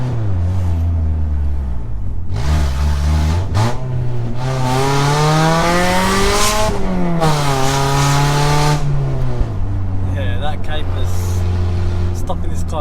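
A 2.2 VTi Honda Prelude that had sat parked for five years revs hard through the gears as VTEC engages, loud rising and falling engine pulls from inside the car, with a person speaking over it.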